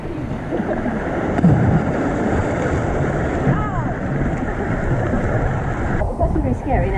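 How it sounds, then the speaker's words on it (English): Ocean waves wash and churn against the rocky Pembrokeshire coast under strong wind buffeting the microphone, with a boat's hum in the background. "you can see the waves coming"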